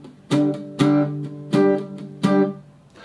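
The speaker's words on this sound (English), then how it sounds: "So what I do like to do for this strumming pattern is I like to palm mute it." Palm-muted acoustic guitar strumming in four short, percussive chord hits at an even pace, each damped and quickly fading, close and with no voices.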